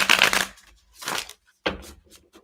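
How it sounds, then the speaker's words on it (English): Tarot cards shuffled by hand in three short riffling bursts separated by brief pauses, close and crisp with no talking. "These cards are very hard to shuffle."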